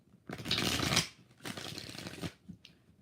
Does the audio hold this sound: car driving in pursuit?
no